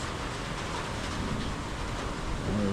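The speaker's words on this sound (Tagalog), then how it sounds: "lumalakas na ulan" Rain falls heavily during a rainy-season downpour, a dense, even hiss that holds steady throughout and swells slightly toward the end, with no voices over it.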